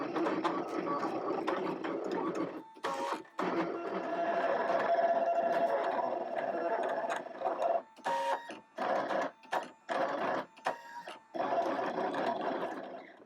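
An electronic cutting machine embossing with a 1.5 millimeter tool gives a whirring, mechanical printer-like drone with quick clicking carriage moves, ending in a run of short stop-start bursts, near and steady, with no talk.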